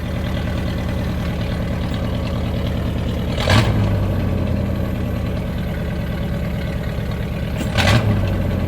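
A car engine with a newly fitted throttle idles steadily, then revs twice in short, sharp blips a few seconds apart, settling back to idle after each.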